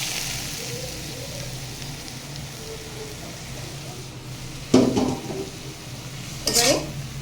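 Mixed vegetables are stirred and fried in oil, giving a soft, steady sizzle with a low background hum, broken by two sharper clattering scrapes of a spoon against the pan near the end.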